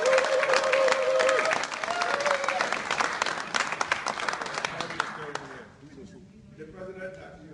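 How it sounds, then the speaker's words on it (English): A crowd applauds loudly and steadily, with dense clapping that thins out near the end as a voice starts to come through. "let's give him a real Cameroon applause"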